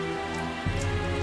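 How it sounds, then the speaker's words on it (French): Steady hiss of rain falling in the video game Tales of Zestiria, dense and continuous, with a low droning music bed that swells partway through. "j'aimerais bien savoir depuis quand il pleut aussi"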